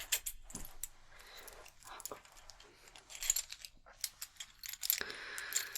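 Keys jangling and clinking close up in a quiet whispered ASMR setting, a few short metallic rattles spread across the moment with soft handling noises between them.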